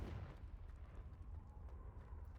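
Confringo blasting spell going off in Hogwarts Legacy inside a cave: a deep rumbling explosion that opens with a burst, then a sustained low roar that lingers at a steady level.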